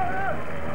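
A boat moves on the water at Lysekloster with a steady low rumble and wind noise, while a brief voice-like tone rises early on.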